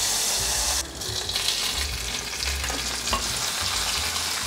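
Bitter melon and pineapple sizzle and fry with ginger slices in oil in a clay pot, a steady loud crackle with stirring scrapes throughout.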